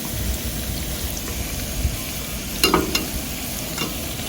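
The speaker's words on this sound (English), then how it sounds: "Stir fry the prawns for about 6 to 7 minutes." Prawns stir-fry in masala for an Anglo-Indian prawn roast, a soft, steady sizzle with a few brief spatula scrapes and clinks near the end.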